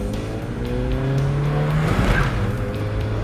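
A car engine roars under load as the tires break loose in a burnout and squeal briefly, the rising revs and tire noise close and loud.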